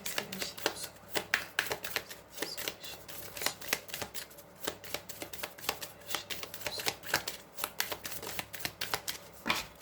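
Dame Darcy oracle cards being shuffled by hand close up, a steady run of crisp riffling and flicking bursts in an even, repeating rhythm, with no talk.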